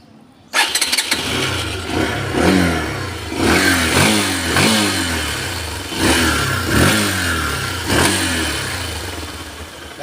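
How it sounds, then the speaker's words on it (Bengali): A 150cc motorcycle engine fires up after a brief quiet moment, then revs repeatedly in short rising bursts, loud and close, with a steady idle between throttle blips and no talking. "গাড়িটা ইঞ্জিনের সাউন্ড দেখতে পাচ্ছেন খুবই সুন্দর আছে।"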